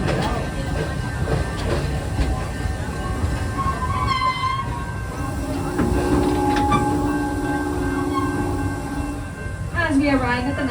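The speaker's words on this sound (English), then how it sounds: "As we arrive at the Nairobi train station, please remain seated until the train comes to a full and complete stop." A ride train at Busch Gardens Tampa Bay rumbles into its Nairobi station with rattling carriages, several squealing brake tones and a short horn-like tone near the end, all fairly loud and continuous.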